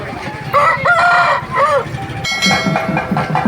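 A rooster crows loudly nearby at a farmers' rooster market in Vijayawada, a drawn-out call with rising and falling notes, followed by further fowl calls and clucking in the background.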